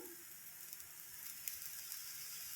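Oil sizzles softly around a hand-patted Maharashtrian dhapate flatbread on a hot pan, a quiet, even hiss with faint crackles and one small pop midway, no voices.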